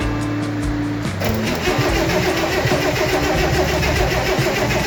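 A 1964 Corvair Monza Spyder turbo engine cranks steadily after a short whirring start, turning over repeatedly without catching; the rhythmic starter churn runs loud and close for the whole stretch with no voices.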